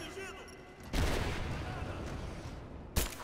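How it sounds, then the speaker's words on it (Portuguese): Gunfire in the video game Rise of the Tomb Raider, a dense sustained burst of shots with sharp louder cracks near the start and end of the stretch. "Fica parado aqui levando tiro."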